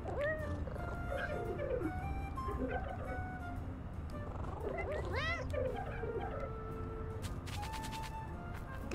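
A cat meows several times in the video game Little Kitty Big City, short rising and falling cries over a steady game background, with someone speaking in between.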